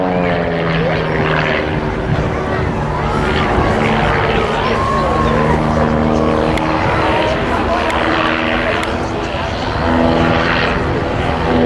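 A propeller aircraft in Free French Air Force colours performs at the Scottish International Airshow, its engine droning loud and steady with a wavering pitch throughout, while people talk over it.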